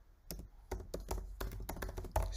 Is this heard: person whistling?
no